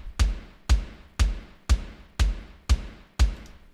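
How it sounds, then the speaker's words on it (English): A programmed kick drum loop built in Logic Pro repeats seven punchy, deep thumps in an even, steady pulse. Each hit is loud and close with a short decaying tail, and there are no other sounds. "Now we have one measure of 4 kicks."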